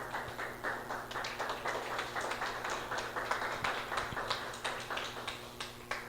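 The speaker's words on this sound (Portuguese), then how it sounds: "vamos aplaudir bem forte ao Senhor Jesus" A church congregation claps steadily together during a gospel service, a continuous patter of many hands in an indoor space.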